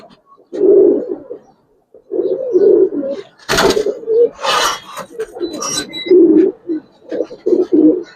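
Giribaz coloring pigeons coo repeatedly in soft, low, rolling phrases close by, with brief gaps between calls and a few sharper noises and wing or handling sounds in the middle.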